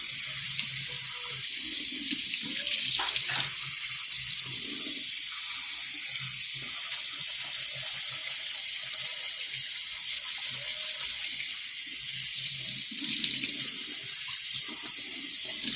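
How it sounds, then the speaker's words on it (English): Water runs steadily from a faucet into a kitchen sink as rice is rinsed under the stream, a continuous close wash with faint clatters and splashes throughout and no talking. "I'm going to rinse it until it gets like all the cloudiness out of it."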